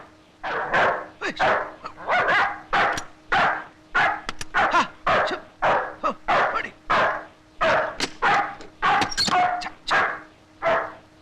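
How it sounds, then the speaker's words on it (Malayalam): A dog barks repeatedly and loudly close by, a steady run of sharp barks one after another with short gaps between them. "പട്ടി വല്ലാതെ കുറയ്ക്കുന്നുണ്ടല്ലോ"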